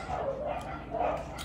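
A dog barks twice in quick succession, fairly quiet and somewhat distant, with a short pause between the two yelps.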